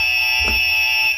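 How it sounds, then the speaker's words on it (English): Quiz buzzer sound effect in the style of a fire alarm: a loud, piercing electronic tone sounding steadily for about a second before cutting off. "I've changed the buzzers this week, different noises."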